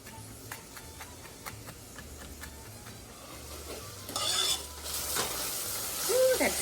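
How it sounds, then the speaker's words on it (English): Food sautéing in a saucepan while making turkey chowder: a low, steady sizzle with light ticking stirs and utensil taps, growing louder and brighter toward the end, with no talking. "While that's sauteing away"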